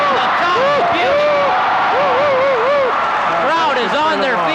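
A packed crowd at a 1986 Pali vs Malibu volleyball final in Minneapolis roars and cheers, with whoops and shouting voices rising and falling over a steady wash of applause for several seconds.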